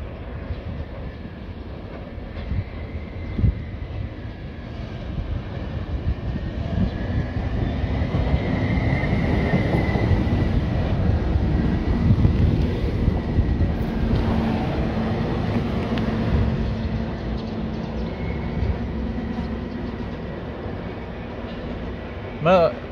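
A Regio passenger train from Timișoara to Oradea pulls into Arad Nou station, its low rumble and rolling wheel noise building steadily and staying loud to the end, with a voice talking over it.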